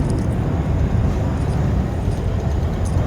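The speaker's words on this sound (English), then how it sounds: "it sounds like a jet just went over our head" A jet aircraft near the runways of Nellis Air Force Base roars overhead in a loud, dense, continuous rumble that fills the whole three seconds with no voices.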